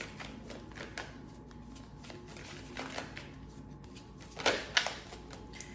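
Tarot cards being shuffled repeatedly, a soft fluttering riffle with a couple of sharper, louder bursts near the end, close by.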